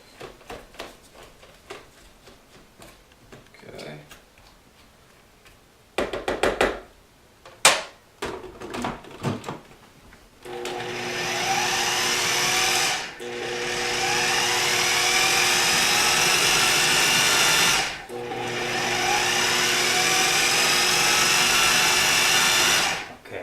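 Food processor chopping celery and apple for a tuna salad: a few seconds of clattering and knocks, then a loud, close motor whir that runs in three long bursts with brief stops between them.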